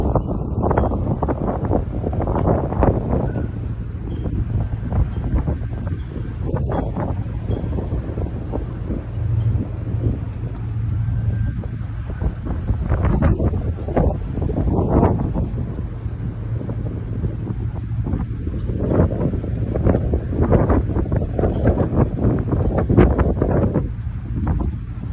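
Strong wind buffets the microphone on the open deck of a ferry crossing from Port Townsend, a continuous loud roar and rumble with gusty bursts and the low hum of the boat beneath.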